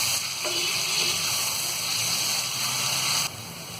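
Onions frying in a pan until golden brown, a loud, steady sizzle with a faint clink near the start, the hiss cutting down abruptly just before the end.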